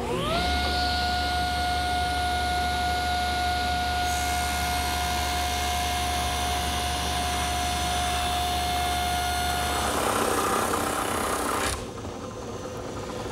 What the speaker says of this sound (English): I can place that edge against my fence to rip the rail to the correct width